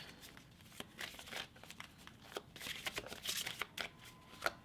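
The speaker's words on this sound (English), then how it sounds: "I'm gonna pick 2 more cards" Tarot cards being drawn and handled from a deck, giving soft papery slides, flicks and shuffling rustles close by in a quiet room, with no talking.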